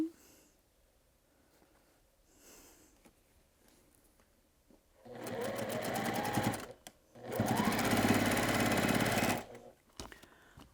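Sewing machine joining the next row of a small maze-pattern quilt, running in two sustained loud stretches of steady whirring stitching separated by a short pause, with quiet handling before.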